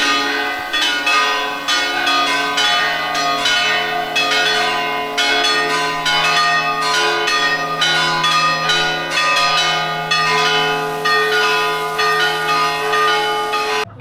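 Church bells ring steadily from the bell tower of the 16th-century Church of the Immaculate Conception in Mijas, Spain, a tower that once belonged to a castle; overlapping strikes keep a continuous, loud, resonant peal with no voices.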